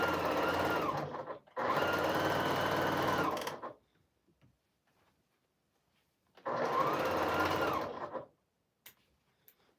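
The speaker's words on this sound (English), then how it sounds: "I'm going to come here and I'm going to sew." Sewing machine in a farm video game whirs in two loud, steady bursts of a few seconds each, separated by near silence and faint clicks.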